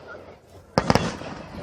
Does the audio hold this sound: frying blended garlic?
no